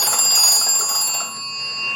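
A wall-mounted magneto telephone generator is cranked, ringing its bell in a rapid metallic trill that fades after about a second, close and alone.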